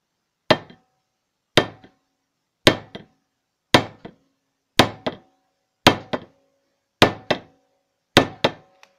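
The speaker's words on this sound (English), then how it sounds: "Non-marring hammer. Just give this some gentle taps and see what happens." A non-marring hammer gives a bent Carcano rifle receiver ring, clamped in a vise, about eight light, evenly spaced taps roughly a second apart, each a crisp close knock with a short ringing tail and some doubled bounces, heard alone.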